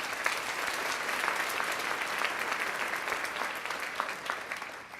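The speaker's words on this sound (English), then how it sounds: "Let's give them another round of applause." An audience applauds at a graduation celebration for a Southeast Texas I Have a Dream class, a dense, steady wash of many hands clapping close and loud, holding for about five seconds before easing slightly at the end.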